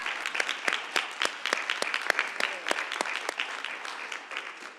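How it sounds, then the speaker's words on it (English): A single person clapping for themselves at a diversity networking event, sharp individual claps in a steady, fairly close run lasting several seconds, with no talk over it. "And I just clapped for myself"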